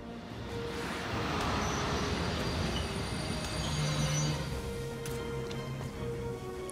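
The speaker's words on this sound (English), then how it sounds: "Oh, here comes a train." A train pulls in and slows to a stop in the video game Valkyria Chronicles 4, a steady rumble of wheels on rails with faint high squeals and clanks, fairly loud and close.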